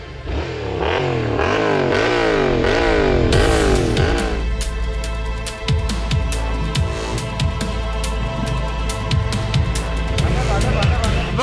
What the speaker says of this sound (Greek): Δώσε γκάζ να φύγει από την εξάτμιση αν έχει μαζέψει τίποτα.